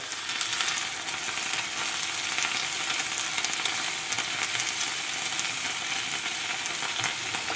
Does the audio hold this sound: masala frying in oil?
yes